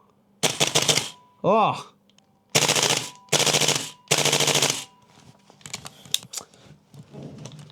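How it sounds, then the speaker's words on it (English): A gas blowback airsoft rifle fires several loud, sharp bursts of rapid shots with pauses between them, separated by metallic handling clicks, while a voice briefly exclaims. "So I bought a gas blowback rifle again."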